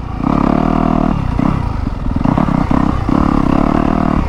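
A Yamaha YZ250F dirt bike on a trail ride, its four-stroke engine droning loud and close with steady revs, a brief choppy patch of throttle blips and clatter midway, then settling back into a sustained buzz.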